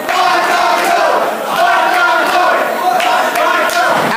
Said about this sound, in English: As the crowd chants Fandango.